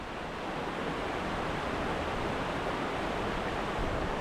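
A Yukon waterfall roars as a dense, unbroken rush of falling water, loud and steady throughout, with no voices over it.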